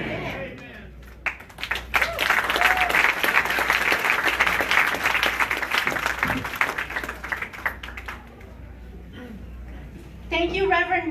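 Town hall crowd in Las Vegas applauds a reverend and a choir, with thick, lively clapping building quickly, holding strong for several seconds, then thinning out before a voice and fresh sounds return at the end.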